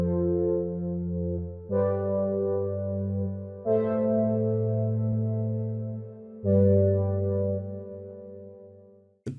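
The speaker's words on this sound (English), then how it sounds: "Pad Poseidon is a pretty clean pad and it sounds like this." Clean synth pad preset called Poseidon for tropical and chill house, playing a slow sequence of four sustained chords alone, each entering with a soft swell and holding steady before changing.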